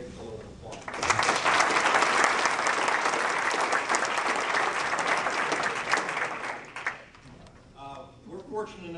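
Audience applause at a 60th anniversary reunion, a dense burst of clapping that swells quickly, holds steady for several seconds, then fades out as a voice speaks.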